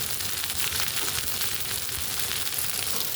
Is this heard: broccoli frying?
yes